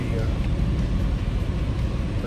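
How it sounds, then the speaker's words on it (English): A snow-spreading truck rumbles past on a snowy residential road in a low, steady, moderately distant drone, with someone talking over it. "truck here that's spreading snow on my front"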